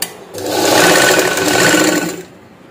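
A sewing machine stitches the shoulder joint of a princess-cut blouse, one short, loud, close whirring burst lasting about two seconds, alone without talk.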